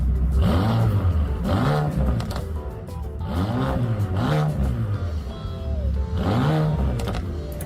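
Car engine in the racing game Test Drive Unlimited Solar Crown, revving up and down in repeated rising sweeps with crackling backfires between shifts, close and loud under a talking voice.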